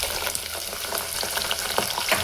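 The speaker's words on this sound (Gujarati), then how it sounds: "હવે આપણે પહેલાં દૂધીને સાતળી લઈએ." Bottle gourd sautéing in hot oil with bay leaf, cumin and curry leaves, giving a steady, loud sizzle and crackle with occasional stirring scrapes throughout.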